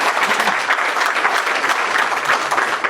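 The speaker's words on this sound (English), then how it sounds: "So, give a round of applause." A security conference crowd claps loudly and continuously, a dense wash of many hands with no gaps, close and sustained for several seconds.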